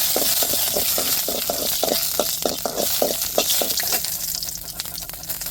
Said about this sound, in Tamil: இப்போ எண்ணெய் சுடடிட்டு மிளகை வறுத்துக்கிடுவோம்.